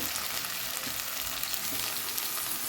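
Vegetables for a simple vegetable palav fry in a pan with a constant hissing sizzle, steady and fairly faint throughout, with no talking.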